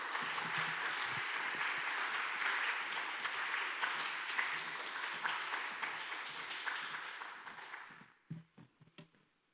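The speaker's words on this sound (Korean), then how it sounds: "우리 박수로 우리 모시도록 하겠습니다." A church congregation at a Friday prayer meeting claps to welcome a missionary from the Philippines, a dense wave of applause that tapers off to a few last claps.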